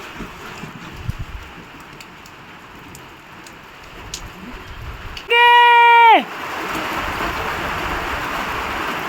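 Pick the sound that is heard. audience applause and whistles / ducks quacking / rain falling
rain falling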